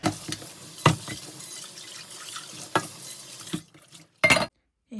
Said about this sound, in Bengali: আমি একেবারে জমা করে 2-3 ঘন্টার জিনিস একবারই ধুয়ে ফেলি।